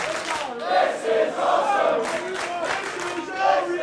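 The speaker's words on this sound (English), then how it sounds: "And listen to the crowd." A wrestling crowd in Newcastle chants in loud rhythmic waves during a pro wrestling show, voices swelling and dipping steadily throughout while the referee counts.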